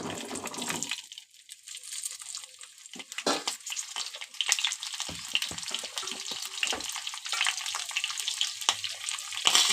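Bottle gourd and potato pieces dropped into hot oil, setting off a loud, dense hiss of frying that starts abruptly and keeps sizzling and crackling steadily throughout, with no voices.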